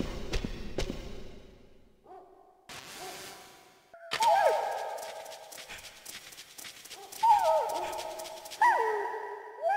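Half-wolf, half-husky wolf dogs in Metal Gear Solid give short sharp barks and yelps in separate bursts, loud and close, between quieter electronic game tones, with no speech.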